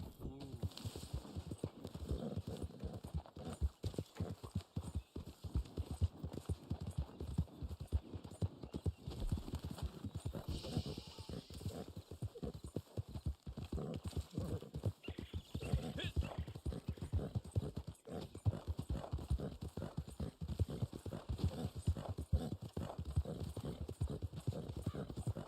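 A weak, tired horse in Red Dead Online plods along, its hooves clip-clopping in a continuous, fairly close rhythm, with an occasional whinny breaking through.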